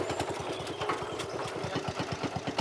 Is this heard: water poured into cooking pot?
no